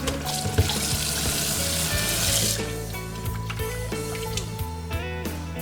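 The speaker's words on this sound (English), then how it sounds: "I'm thoroughly washing my stockfish" Tap water runs and splashes in a sink while stockfish is washed under it, a steady rushing stream for a few seconds, then thinning into drips, clinks and handling noises.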